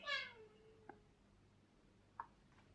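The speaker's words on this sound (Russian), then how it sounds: "Там у нас какие-то коты мякают." A cat meows once indoors at home, a clear, fairly close call that falls in pitch, followed by a few faint clicks and soft background noise.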